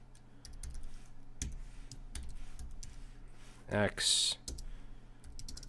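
Code being typed on a computer keyboard: a steady run of light key clicks with a few heavier taps, under a voice talking.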